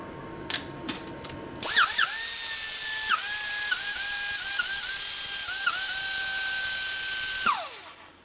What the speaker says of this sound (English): Grinder's about done